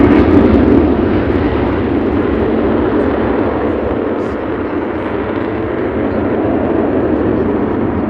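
An Avro Vulcan jet bomber thunders past at an air display, a loud, steady, dense engine roar that holds throughout before easing slightly.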